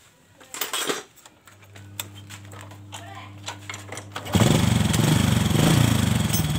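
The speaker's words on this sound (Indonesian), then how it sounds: "saya mau hidupkan mesin dan saya mau setel ya sekiranya nanti ukuran berapa yang pas" A Honda Kharisma motorcycle engine starts after some clicks and a brief hum, then idles loudly and steadily close by during carburetor adjustment.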